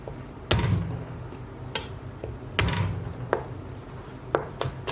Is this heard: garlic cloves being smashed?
yes